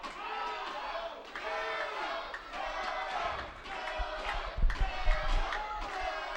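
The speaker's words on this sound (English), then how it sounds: "Listen to this crowd. They are electric here tonight." A pro wrestling crowd cheers and chants in a sustained roar of many voices that fills the whole stretch, with some low thumps near the end.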